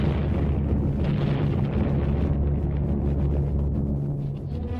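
Heavy wartime bombing explosions from 1945 WWII documentary footage of the Burma campaign, a dense, continuous rumbling barrage of booms that stays loud throughout and eases slightly at the end.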